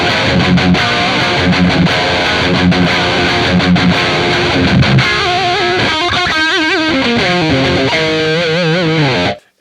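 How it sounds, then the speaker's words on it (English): Distorted electric guitar played through a genuine Marshall JMP amplifier, loud and sustained, with chugging chords early on giving way to bending, vibrato-laden lead notes before stopping abruptly. "This is the real Marshall JMP."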